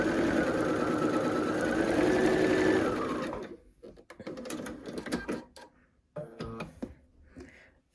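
A sewing machine stitches quilt star triangles in a steady whirring run for about three seconds, then comes a few short bursts and clicks of fabric handling and needle repositioning.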